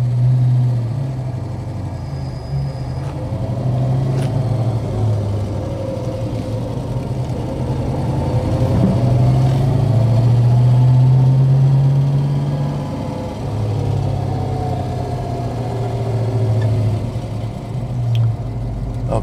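A 1970 Ford Mustang Boss 302 V8 runs at a steady, close idle with a low, even rumble and slight swells in pitch, with no talking.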